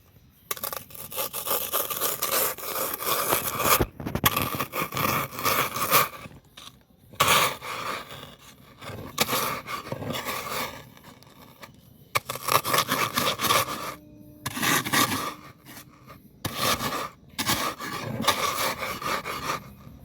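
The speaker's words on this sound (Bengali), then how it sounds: "টোস্ট বিস্কুটগুলো এখন আমি গুঁড়া করে নেবো" Toast biscuits are crushed into crumbs by hand, giving close, irregular bursts of scraping and crunching with short pauses between them.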